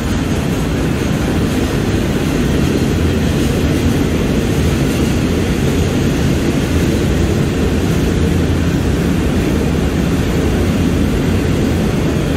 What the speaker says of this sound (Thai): ขบวน390ก ็วิ่งออกพร้อมกันนะครับ